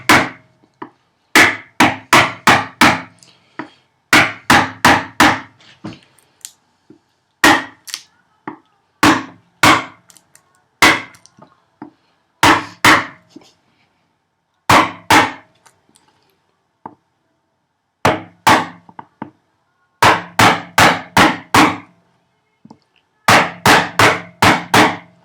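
A mallet drives a chisel to chop housing dados in wood on a workbench build, sharp, loud, close strikes in quick bursts of three to six blows separated by short pauses.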